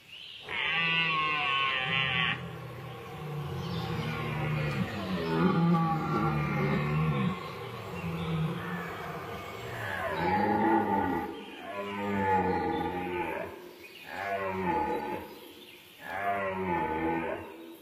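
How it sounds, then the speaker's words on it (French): Deer stags belling during the autumn rut, rival males competing over a herd of hinds: a series of deep, drawn-out roaring calls repeating every few seconds, loud and resonant, with no voices over them. "Les brames des prétendants se multiplient."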